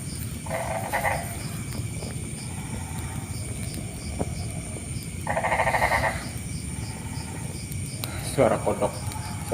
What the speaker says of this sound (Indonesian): Suara kodok pit ngagetin teman